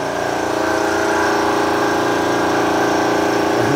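An Air Venturi air compressor runs steadily and loudly close by, with a constant motor drone and a rhythmic pulsing chug from the pump that repeats throughout, with no pauses or talk.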